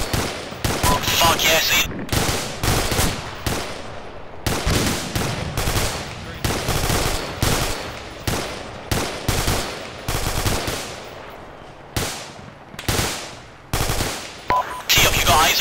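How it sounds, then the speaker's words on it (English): Heavy machine gun fire in a mock combat operation, loud repeated bursts of automatic gunfire with short gaps, close and dominant throughout, with a brief shouted voice. "we've got HMG fire coming in"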